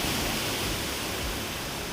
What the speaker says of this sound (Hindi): लबालब भर चुके खोरिंको बांध से बह रहा पानी अब सिहरन पैदा कर रहा है